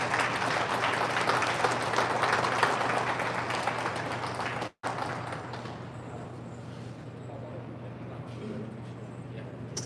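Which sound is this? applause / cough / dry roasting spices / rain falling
applause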